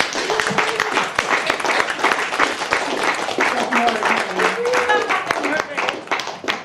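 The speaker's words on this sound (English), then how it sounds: "Keep clapping for Jenny!" Audience clapping at a poetry reading in a Chicago bar venue, a sustained patter of hands with a voice talking and calling out over it throughout.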